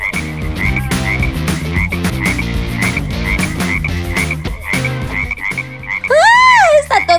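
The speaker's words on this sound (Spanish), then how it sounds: "¡Está todo lleno de ranas!" A chorus of cartoonish frogs croaks in rapid, rhythmic bursts over a playful backing in the Toca Boca Life game, ending with a louder whooping, swooping call.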